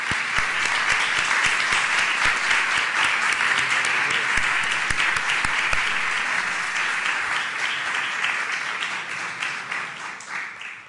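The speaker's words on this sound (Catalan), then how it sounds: "un merescut aplaudiment a tots els ponents" Audience applause for the panel speakers at a Catalan event marking 50 years since the Geografia de Catalunya was published, a dense, steady roomful of clapping that holds for about eight seconds and then fades as the clapping thins out.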